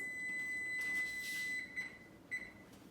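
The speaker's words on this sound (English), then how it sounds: "Sorry about the beeping in the background." An electronic beeping tone sounds steadily, then breaks into a few short beeps near the end, over a quiet room background.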